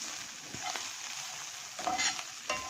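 Tandoori masala mixture is stirred in a hot pan while making tandoori pasta, with a continuous close sizzle and a few sharper scraping strokes of the spoon over a short stretch.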